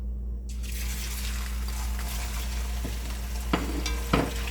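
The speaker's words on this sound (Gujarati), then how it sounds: "આપણે 250 ગ્રામ જેવું પનીર લીધું છે, તે આપણે એને તેલમાં સાતરી દઈશું થોડું।" About 250 grams of paneer frying in hot oil in a pan while being stirred, a quiet steady sizzle with a low hum beneath and a few soft scraping clicks of the spoon near the end.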